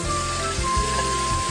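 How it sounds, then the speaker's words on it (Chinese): Sliced garlic frying in olive oil for white wine clam pasta gives a steady, close sizzle with a faint low hum beneath it. "面一边在煮的时候，我们的蒜片一边在爆香"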